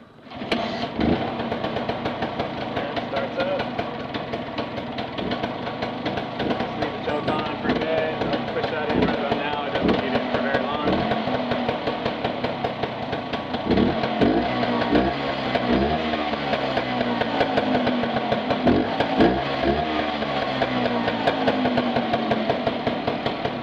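A 1965 Vespa SS180 Super Sport scooter with freshly fitted piston rings, its small two-stroke engine starting and running close by, settling into a buzzing idle with a few throttle blips that raise the pitch, while someone talks over it.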